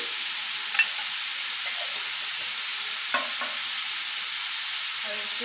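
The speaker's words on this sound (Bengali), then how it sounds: "হলুদের গুঁড়ো আর নুন দিয়ে এটাকে ভালো করে মিশিয়ে নেব।" Hilsa fish head being mixed with salt and turmeric in a hot pan, a steady frying hiss with a few faint stirring scrapes, while a voice speaks briefly.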